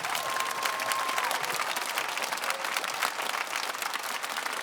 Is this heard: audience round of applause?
yes